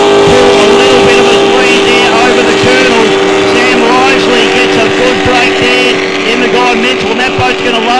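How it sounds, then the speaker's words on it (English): V85 racing powerboats roar down the front straight at a Geelong powerboat race, a loud, dense engine drone with a steady whine, heard up close under continuous commentary. "V85 boats, all charging down the front straight away into turn number 1."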